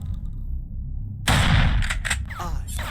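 Gunfire from the third-person shooter video game Chrono Shot: a sudden loud blast erupts after a quiet stretch, followed by a few sharp shot bursts and a brief whooshing effect.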